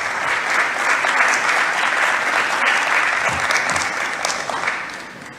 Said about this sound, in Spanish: Me tocaba decir un fuerte aplauso para ellos, pero ya se lo dieron